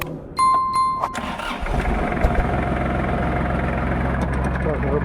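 A Kubota GL-23 mini tractor's three-cylinder diesel engine cranks briefly, catches and settles into a steady, even idle that runs loud and close until the end.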